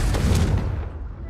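A Confringo fire-blast spell explodes in the game Hogwarts Legacy as a single loud, close boom with a deep low thump. It fades over about a second into a dull rumble.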